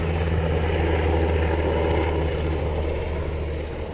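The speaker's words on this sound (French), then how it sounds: "un hélico là au-dessus" A helicopter flies overhead along the Meuse river, a loud, steady engine drone and rotor rumble with a constant low hum throughout, no voices.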